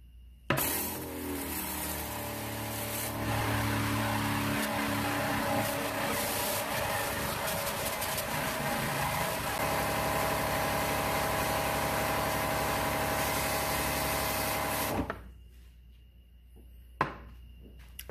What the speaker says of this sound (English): Go ahead and turn on the sprayer.